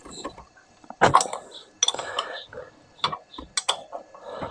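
Wrench work loosens the rear sprocket nuts on a Yamaha V Star XVS250 motorcycle, the brake holding the wheel still, giving a few close metallic clicks, ratcheting and clinks spaced irregularly with quieter gaps.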